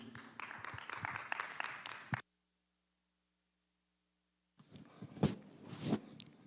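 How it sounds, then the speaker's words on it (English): Audience applause welcoming a Birmingham mayoral candidate, a burst of clapping that cuts to silence and then resumes with louder claps. "let's receive him now with a hand clap of praise"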